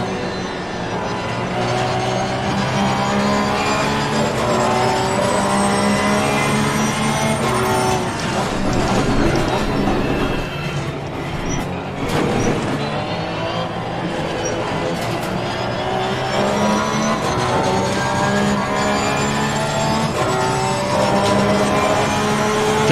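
Ferrari GT race cars in the sim racing game Assetto Corsa Competizione, engines droning steadily and loudly with harmonic pitch sweeps as revs rise and fall through gear changes, several cars running close together.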